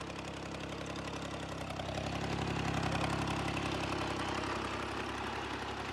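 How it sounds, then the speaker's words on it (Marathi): A tractor engine runs steadily and fairly loud at a constant, idling-like pace while the tractor drives itself through a pomegranate orchard being sprayed after heavy rain, with a low, even mechanical drone and no talking. "आणि ट्रॅक्टर ऑटोमॅटिक चालवतोय बा,"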